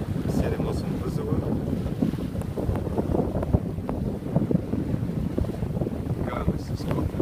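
Wind blows hard over a sailboat on the passage from Skopelos to Porto Koufo, a constant gusty roar buffeting the microphone, with water rushing against the hull and occasional knocks and creaks on deck.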